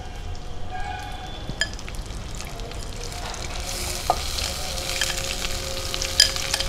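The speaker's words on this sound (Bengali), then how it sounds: "কাজু কিশমিশটা হালকা ভাজা হয়ে গেছে, এবার আমি চালটা দিয়ে দিচ্ছি।" Rice poured into a pan of cashews and raisins frying in ghee, with a loud, close sizzle and stirring scrapes throughout and a few sharp clinks, with no voices.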